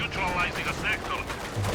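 Panzer IV tank firing on a T-34 in the Company of Heroes 2 video game: a quick run of sharp gunfire-like shots and clanks over about two seconds, with a possible voice in the background.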